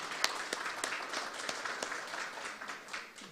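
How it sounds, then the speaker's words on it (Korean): An audience at the 2020 소부장 Startup 100 launch ceremony breaks into steady applause, a dense wash of clapping hands with sharp individual claps popping out for about three seconds, with no talking. "중소벤처기업부 박영선 장관님한테 박수를 먼저 좀 보내주시죠"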